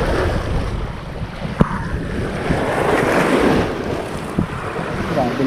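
Lake waves wash and splash against the shore beside a fishing spot, a steady broadband surge with brief louder slaps, mixed with wind buffeting the microphone and occasional low voices nearby.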